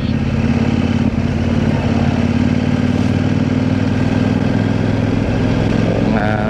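A motorcycle engine drones loudly and steadily, close up, during a ride on a back road toward the Pililla windmill farm. No voices are heard over it.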